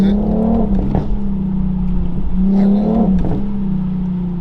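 A tuned Infiniti Q50 idles and revs with a rumbling exhaust, crackling pops breaking through between the revs, close and loud throughout.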